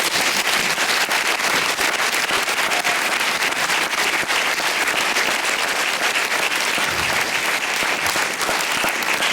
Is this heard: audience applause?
yes